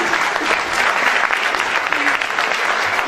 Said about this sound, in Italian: razie anche al magistrato Santino Mirabella, grazie, applauso.